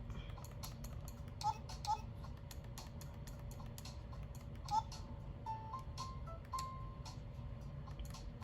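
Clicky keyboard typing in a game-setting session, scattered soft key taps over a steady low hum and background tone, faint and intermittent rather than a continuous burst.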